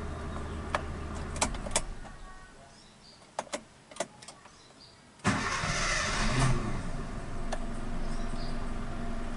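A Suzuki Katana car with a freshly tuned carburetor gives a few clicks and clunks, then its engine catches and settles into a steady, even idle.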